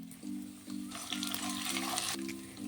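Chana dal, urad dal, mustard seeds and cumin crackle and sizzle in hot oil for ginger rava upma, with a steady close frying hiss and a few sharp pops.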